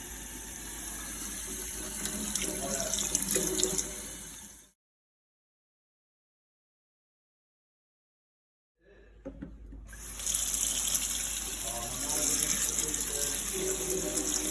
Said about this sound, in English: Wash your greens. Do as much as you like. Make sure your greens are washed.